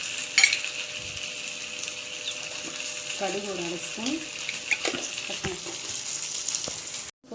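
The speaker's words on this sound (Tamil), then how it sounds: "எண்ணெய் காஞ்சிடும். ஒரு 2 காஞ்சி மிளகாய் கிள்ளி போட்டுட்டு" Dried red chillies and mustard seeds frying in hot oil for a Tamil-style pepper rasam make a steady close sizzle with crackling pops, continuing under a person speaking.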